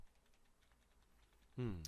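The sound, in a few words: computer keyboard keys being pressed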